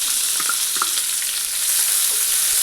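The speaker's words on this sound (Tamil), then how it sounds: "இப்போ வெங்காயம் நல்லா வந்து கோல்டு கலரில் வதக்கணும்" Two large chopped onions frying in hot oil with fennel seeds for a vegetable salna, a steady close hiss and crackle with occasional stirring scrapes, no voices.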